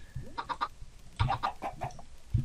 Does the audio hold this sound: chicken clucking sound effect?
yes